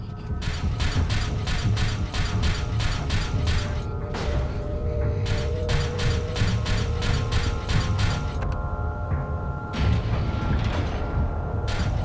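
A heavy shutter mechanism in Resident Evil 4, worked by levers, grinds and ratchets in rapid repeating clicks over a loud mechanical rumble, pausing briefly several times before resuming.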